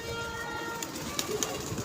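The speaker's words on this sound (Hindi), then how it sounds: "ये कबूतर देख लो" A pigeon coos softly in a low, rumbling tone, nearby, over a steady background hiss, with a couple of brief sharper sounds near the end.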